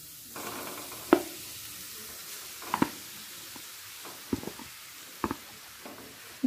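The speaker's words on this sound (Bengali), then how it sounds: "এবার দিয়ে দেব গ্রেট করে নেওয়া গাজর।" Grated carrot drops into hot ghee for gajar ka halwa and is stirred, a soft steady sizzle with occasional sharp clicks of the spoon against the pan, close and fairly quiet, with no talking.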